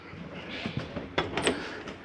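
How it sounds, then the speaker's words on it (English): An RV bedroom door in a Mesa Ridge 322RLS travel trailer is pushed shut and latched, giving a couple of soft knocks followed by a sharper close-up thud and click, with faint handling noise around it. "Secure that door."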